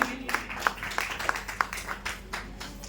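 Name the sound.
audience applause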